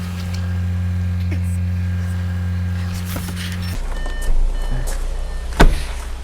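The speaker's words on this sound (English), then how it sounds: "I need to unlock this car first." An Audi A4 or A5 is unlocked and its boot opened: a steady electronic hum cuts off, followed by a few close mechanical clicks and a sharp latch thunk near the end.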